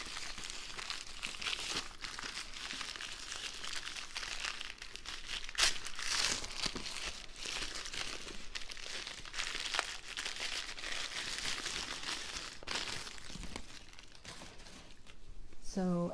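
Plastic wrapping crinkles and rustles as the chain of a Chanel bag is unwrapped, a soft, close, continuous crumpling with a few sharper crackles.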